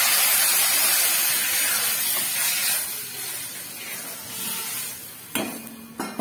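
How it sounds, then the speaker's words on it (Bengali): Hot water pours into a hot pan of chicken tossed with chili powder, setting off a loud, steady steaming hiss that slowly fades, with a sharp metallic clank and a brief burst of sizzle near the end. "এটাতে আমি গরম জল ঢেলে দিলাম।"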